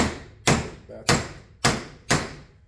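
Four sharp metallic hammer taps seating a bearing into a Polaris Outlaw 500 ATV front wheel, spaced about half a second apart, each ringing briefly, close and fairly loud with no talking.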